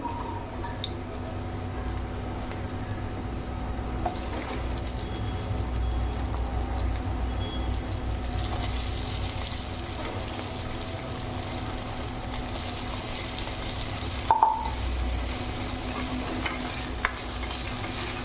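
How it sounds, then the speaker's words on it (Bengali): Diced potatoes fry in oil in a pan alongside browned onions for a spicy okra-potato dish, giving a steady, continuous sizzle with occasional stirring scrapes and a few sharp clinks near the pan. "আলুটা তেলের সঙ্গে ভালো করে ফ্রাই করে"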